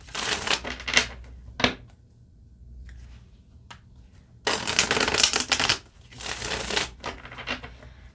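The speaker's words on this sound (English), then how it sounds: "let's just shuffle these and get the messages" Tarot cards are shuffled close up in several bursts of crisp riffling and fluttering, separated by quieter pauses with faint handling noises, no voices present.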